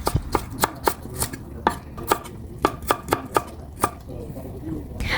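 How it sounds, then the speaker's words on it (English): Knife chopping leafy greens, stems removed, into thin strips on a cutting board, about a dozen crisp, evenly spaced cuts that are close and fairly loud, with no talking. "After I remove all the center stems, then I'll slice them into thinner strips."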